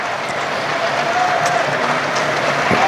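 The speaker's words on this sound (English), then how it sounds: "But Lawrence it is who gets the applause from down below us here" At an England v New Zealand Test match, a cricket crowd applauds Lawrence as he walks off, giving loud, sustained clapping that rolls on steadily through the whole clip from the stands.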